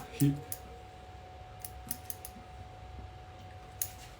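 Scissors snipping through plant stems during pruning, a few sharp clicks and small snips spaced irregularly, close and fairly quiet against a low background hush.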